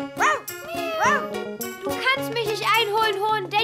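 A voice imitates a cat, meowing in rising and falling tones, with a faint tinkling backdrop.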